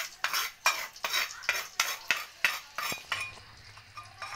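Spice paste for noodle martabak is stir-fried in a pan, a spatula scraping in quick regular strokes about twice a second, with a faint sizzle underneath that settles as the stirring stops near the end.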